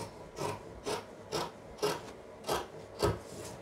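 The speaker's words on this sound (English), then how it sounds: "I'm cutting the back armhole first" Scissors cut fabric for a maxi dress, the back armhole, giving six soft, evenly spaced rasping snips, quiet and close.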